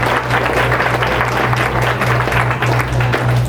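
Loud, dense clapping from an audience at a film premiere, sustained evenly over a few seconds with a low electrical hum underneath.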